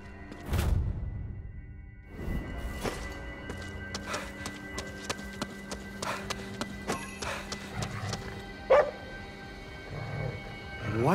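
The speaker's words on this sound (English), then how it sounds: "What's he barking at?" A dog barks repeatedly in short bursts over the soundscape of the video game Ghostwire: Tokyo, with hoof-like clops and scattered clicks; no one speaks.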